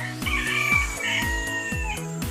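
Golden Sebright chickens cluck and a rooster crows over a loud, steady pulsing beat of music that plays throughout.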